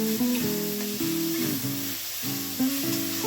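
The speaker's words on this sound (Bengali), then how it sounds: "আমি একেবারে লো ফ্লেমে রেখেছি। আমার মশলাটা প্রায় কষানো হয়েই গেছে।" Masala spice paste sizzles gently in oil in a pan over a low flame, a soft, steady frying hiss under a faint tonal hum.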